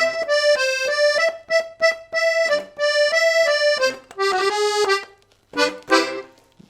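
An accordion plays a simple, bouncy Mary Had a Little Lamb melody in short detached phrases with brief pauses, reedy and close, with no talking.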